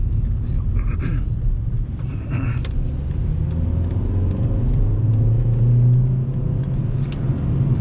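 Naturally aspirated 110 hp VW Jetta petrol engine accelerating on the road, a steady loud low rumble with engine drone rising slightly in pitch, no voices.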